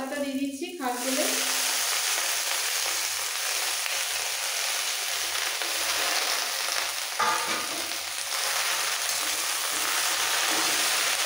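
Washed kharkol leaves tossed into hot oil with spices in a pan, a loud continuous hissing sizzle after an initial burst as the wet leaves hit the oil, steady throughout with little change.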